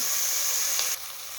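Curry leaves and coriander sizzle steadily in a hot pan for chicken pulao, a bright continuous frying hiss that drops slightly in level near the end, with no voices.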